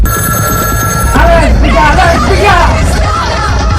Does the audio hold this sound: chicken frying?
no